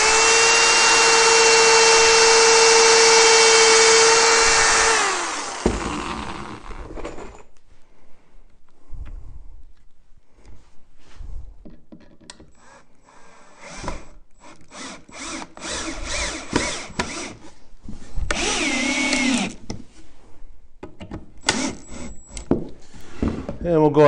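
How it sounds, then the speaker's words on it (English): A loud power drill whirs steadily into wood for about five seconds while building a Layens beehive, winding down, followed by quieter tool handling and a voice talking. "we're going to drill the next hole."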